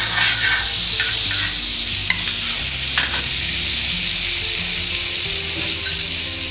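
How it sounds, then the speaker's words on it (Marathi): Butter sizzles and crackles loudly on a hot griddle, a constant bright hiss with a few faint scrapes, no talking. "तवा चांगला गरम झालेला आहे. त्याच्यात आपण 1 चमचा बटर टाकून घेऊया."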